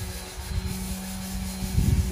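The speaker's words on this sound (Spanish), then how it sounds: "Estas son las lijas que se están utilizando. Es la número 80." A concrete countertop on an outdoor kitchen is sanded with 80-grit sandpaper, giving a close, uneven scraping rub that swells louder toward the end, with no voices.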